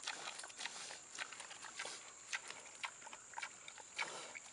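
A pig munches on long carrots, giving a string of close, irregular crunching and chewing bursts over a quiet background.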